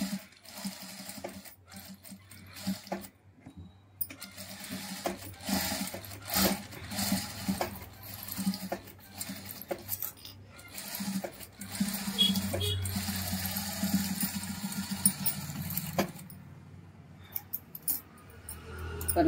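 A sewing machine runs in uneven bursts, stitching lace onto a round neckline with double stitches at key points, mixed with light clinks and handling noise.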